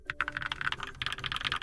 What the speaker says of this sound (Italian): Ma accidenti, la tastiera suona bene.